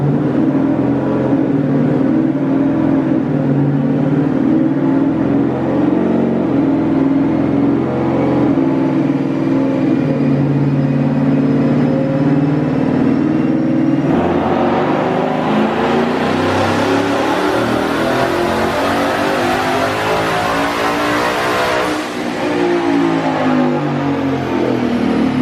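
Twin-turbo 2020 Mustang GT on a dyno, engine droning loud and steady and then climbing hard toward 7500 rpm, with rising turbo whine before it drops off near the end.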